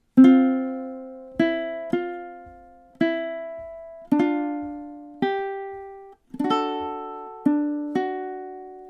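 Ukulele plucks out measures 11 and 12 of the MASH theme, a short pair of phrases with about nine clear, ringing note attacks spaced in a steady counted rhythm, each decaying before the next, played alone with no talking.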